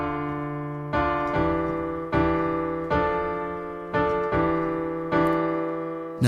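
Solo piano plays the opening two measures of a song at late-beginner level: a slow series of sustained chords struck about every second, each ringing and decaying before the next, close and clear with no voices.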